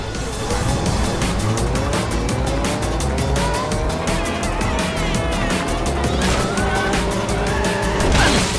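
Race cars speed along in a loud, continuous rush of whining engines that rise and fall in pitch, with tyre squeals layered throughout.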